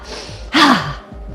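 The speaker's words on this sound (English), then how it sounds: "This time, as you exhale, make the H-A sound." A voiced "ha" exhale from yoga breathing: a single breathy, audible out-breath with a hum of voice underneath it. It is close and fairly loud, with quiet breathing before and after.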